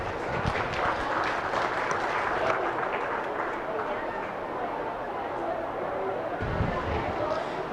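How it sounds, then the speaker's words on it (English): Crowd applause for young exhibitors at a 4-H and FFA steer show, a steady spread of clapping from a large audience in an arena, with background chatter and murmuring throughout. "Give those kids a nice round of applause."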